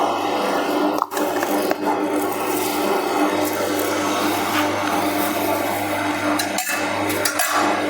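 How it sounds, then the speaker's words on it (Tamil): Electric juicer machine grinding finely grated carrot to extract juice, a steady loud motor whir with grinding texture that runs throughout, broken by a few brief knocks. "இந்த மிஷின்லேயே கேரட் ஜூஸ் எடுத்துக்கலாம்."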